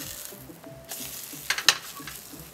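Potato slices frying in a pan for a Korean omelette, a soft steady sizzle with brief louder crackles and a light stir near the end, heard up close without talk.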